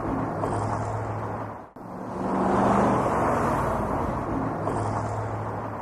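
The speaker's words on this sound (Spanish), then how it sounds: "Tráfico urbano, 80 decibeles" Urban road traffic rumbles steadily, with cars passing close by in overlapping whooshes and a constant low engine hum, one vehicle surging loudly mid-way.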